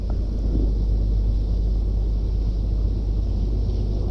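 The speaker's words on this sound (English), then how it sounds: "There's the low hum of a boat engine motoring by." A boat engine motoring past gives a steady low hum under broadband wind rumble, holding constant and fairly loud for several seconds with no voices.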